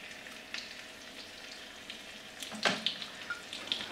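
Meatballs frying in a pan give a steady soft sizzle throughout, with a few sharper crackles and spits toward the end, close and moderately quiet.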